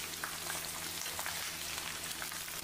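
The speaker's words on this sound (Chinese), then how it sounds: "油温7层下辣椒爆香" Chili peppers frying in hot rapeseed oil mixed with lard, a loud, dense, continuous crackling sizzle up close, with no voices.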